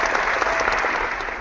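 An audience bursts into dense, steady applause, loud and continuous throughout with no voices standing out.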